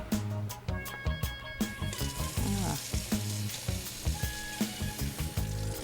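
Butter sizzles and fries in a pot on the stove, a steady crackling hiss broken by rhythmic knocks and clinks of a spoon stirring, near and fairly quiet with no talk.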